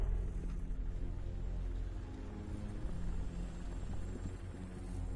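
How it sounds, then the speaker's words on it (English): TV news helicopter in the RoboCop video game, a steady low rotor rumble with a droning hum that holds constant throughout, no voices over it. "That's a TV helicopter"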